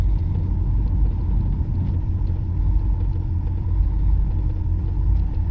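A vehicle engine runs rough, a heavy low rumble with uneven, wavering revs, heard close and continuous with no voices.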